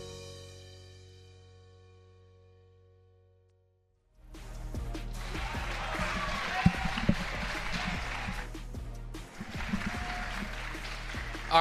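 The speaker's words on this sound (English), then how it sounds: "Fans are applauding Yana Grechkina." Fans at a Major League Pickleball match applaud a player. A fading tone comes first, then a brief silence, then a broad crowd roar of clapping and cheering rises and holds to the end with a short dip.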